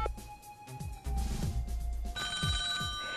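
A telephone rings during a Polish TV quiz show, a sharp electronic ringtone with repeated tones entering partway through over a studio music bed.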